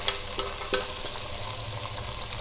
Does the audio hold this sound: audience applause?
no